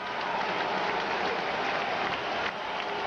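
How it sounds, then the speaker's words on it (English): Baseball stadium crowd at a Cardinals at Blue Jays game in Toronto, cheering and applauding to support a young right-handed pitcher on a two-strike count, a steady broad roar with no clear voices. "Crowd comes alive, trying to help out the young right-hander, Chad Godin."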